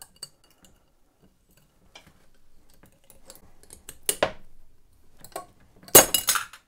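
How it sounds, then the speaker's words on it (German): Metal spring clamps clipped onto glass preserving jars of home-canned stew, giving a few sharp clinks and clatters of metal on glass close by, with a louder burst of rattling near the end. "Und auf die anderen Gläser kommen jetzt diese Klammern hier drauf."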